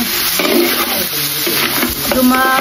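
Sautéed mung beans (ginisang monggo) being stirred in a hot pan, a busy sizzle with scraping utensil strokes throughout, close and loud.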